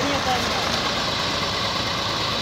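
A Massey 240 tractor engine runs steadily while driving a brick-making machine, giving a dense, continuous mechanical rumble and clatter with no pauses.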